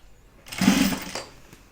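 A sewing machine runs briefly on a fabric seam, one short whirring burst of stitching that rises and fades within about a second.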